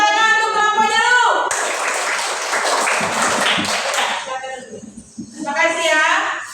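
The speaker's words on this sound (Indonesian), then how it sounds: "Beri tepuk tangan untuk kelompoknya dulu." A classroom group gets applause during an elementary science lesson: dense, lively clapping from many hands bursts in and fills several seconds. A teacher's voice is heard before and after it.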